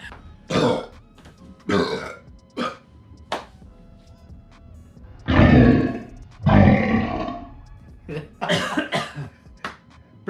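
Loud, drawn-out burps in a burping contest rematch, a series of throaty belches of varying length, the two longest and strongest near the middle, with short grunting bursts before and after.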